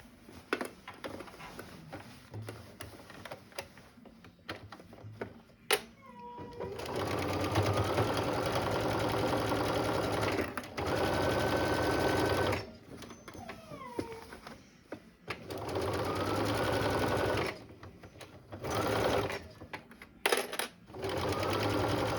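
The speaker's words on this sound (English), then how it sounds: "And sew the other side as well." A sewing machine stitches fabric in several bursts of steady, rapid whirring and clatter, separated by brief pauses and small clicks, heard close in a quiet room.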